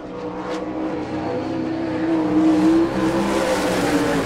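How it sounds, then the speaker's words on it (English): Sprint car with a Mapco engine on a J&J chassis screaming around a qualifying lap at an All Star Circuit of Champions Speedweek event in Rossburg, Ohio, with a loud, sustained high-revving engine drone that swells in pitch midway. "the Mapco engine on the J&J chassis for Daryl Steimeling"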